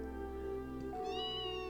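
A cat meows once in the video game Trails in the Sky SC, a short, clear, fairly quiet call that rises in pitch toward the end, alone with no talk.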